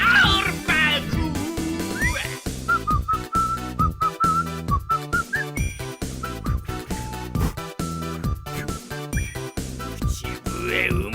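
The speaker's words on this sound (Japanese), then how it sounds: "口笛うまく吹かない。" Someone whistles a rising and wavering tune outdoors in strong wind, the thin whistle breaking off and restarting amid gusts and other vocal sounds.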